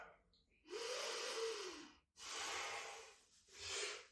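Three slow, deep breaths during a yoga pose, close and audible, each a long airy inhale or exhale separated by brief pauses, with no talking.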